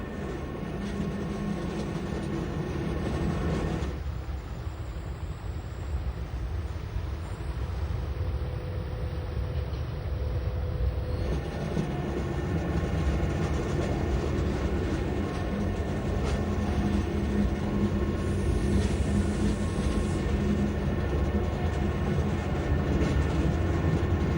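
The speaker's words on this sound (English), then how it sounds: "Our train's descent down the rack section is strictly limited to 25 kilometers per hour" A rack railway train on Switzerland's SBB Brünig line descends the rack section at no more than 25 km/h, rumbling steadily with a constant mechanical drone and faint high whining tones, no voices.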